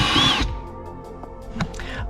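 A power drill spins out screws from the center console of a wrecked BMW X3M, a loud burst at the start followed by quieter clicks and brief whirs of the tool.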